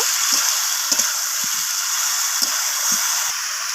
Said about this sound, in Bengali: সব কিছু মশলা দেওয়ার পর আমি এইভাবে কষিয়ে নেব